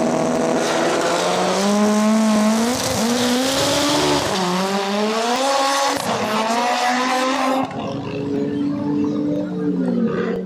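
Bracket drag racing cars launch down the strip at the Valvoline Drag Rivals event, their engines roaring loud and close with rising, wavering tones that climb together before dropping away near the end.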